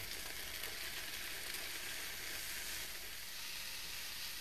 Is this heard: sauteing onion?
yes